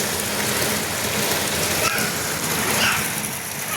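Heavy rain pours down steadily in a village, a dense, continuous hiss of drops hitting surfaces close by, with no break in the downpour throughout.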